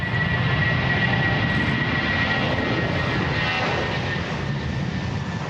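An airplane taking off or landing at an airport gives a loud, continuous jet-engine roar that holds steady throughout, with no talk over it.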